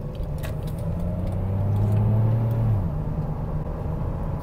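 A 211-horsepower Chevy Impala, 13 years on the road, pulls out into traffic in the rain, its engine rumbling steadily from inside the cabin with a rising low drone as it accelerates, no talking.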